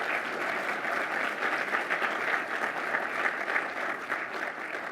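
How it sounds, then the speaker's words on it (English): An audience at a logistics summit in Georgia applauds its panelists, a steady even patter of many hands clapping at moderate distance, sustained for several seconds without talk. "let's a round of applause for our panelists"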